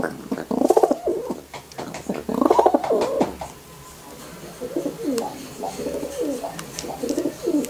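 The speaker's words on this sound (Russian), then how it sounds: "молодой, но очень перспективный самец голубь" Soft, repeated cooing of a young male pigeon close by, in rolling low phrases with brief gaps, over a quiet background with faint clicks.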